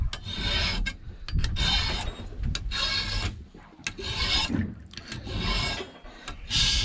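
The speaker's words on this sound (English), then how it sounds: "Sharpen up my tools." Blunted fishing tools on a commercial halibut longliner are sharpened in quick, irregular bursts of rasping, filing strokes, close and moderately loud, with short gaps between the strokes.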